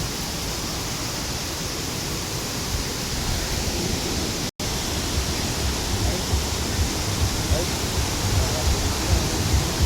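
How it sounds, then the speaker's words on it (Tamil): A steady, loud broadband rush of falling water from a cooling waterfall area fed by a pipe, likely Ravana Falls in Sri Lanka, fills the whole stretch with a momentary dropout near the middle. "பட் வாட்டர் ஃபால்ஸ் வேறு இருக்குது."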